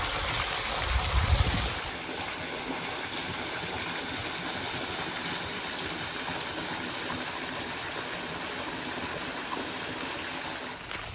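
Falling Water waterfall in the Ozarks running at low flow, a steady broadband rush of falling water that holds even and unbroken throughout, with a brief low rumble at the start.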